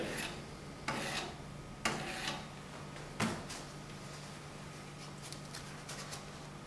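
A knife is sharpened on an X1 sharpener with a few separate rasping strokes, each a short, fairly quiet scrape over a steady low background hum.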